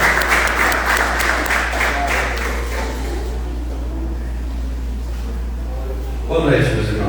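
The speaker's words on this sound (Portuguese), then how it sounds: "começando com uma salva de palmas para Jesus." A church congregation gives a short burst of applause, a dense wash of clapping that thins out and fades after a few seconds. A voice follows, speaking over a low, steady hum.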